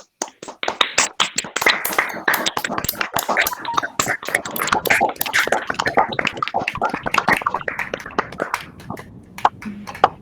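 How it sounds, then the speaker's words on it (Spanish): A small group applauding at the close of an online mathematics talk, a steady patter of claps lasting several seconds before thinning out near the end. "un aplauso virtual"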